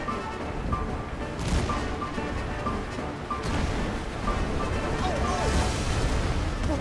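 Ship cannons boom repeatedly during a pirate-ship battle in Kingdom Hearts III, heavy blasts landing amid dense, continuous game music and effects.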